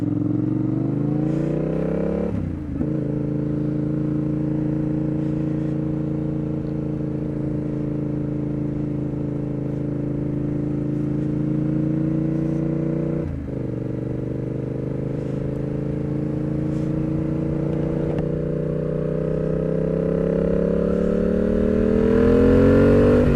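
A motorcycle riding on a road, heard from a GoPro mounted on the helmet: a steady, loud engine drone with two clear shifts in pitch as the rider changes gear, and wind noise throughout.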